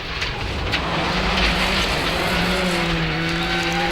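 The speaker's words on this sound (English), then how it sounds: "We're full on the throttle, brake, turn into the corner, then full on the throttle all the way through the corner again." A rally car driven hard through a corner, engine roaring at full throttle before braking and turning in, then pulling hard again; a loud, continuous near engine note with rising harmonic tones toward the end.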